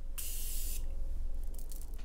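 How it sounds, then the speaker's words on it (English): Morphe Continuous Setting Mist sprayed from a brand-new bottle in one continuous fine burst, a close, bright hiss of just over half a second over a quiet room, followed by faint softer traces. "just one continuous spray to get every angle of your face"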